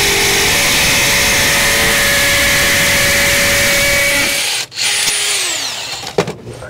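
A power tool drives screws into a weatherproof outdoor socket box, a loud continuous motor whine that runs for several seconds, then winds down and stops, followed by brief handling knocks.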